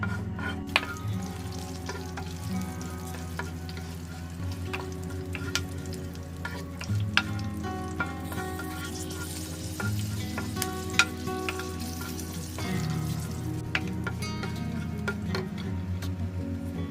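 Fresh whole red chilies fry in hot oil in a pan, a steady close sizzle and crackle with occasional stirring clicks and scrapes throughout, no voices.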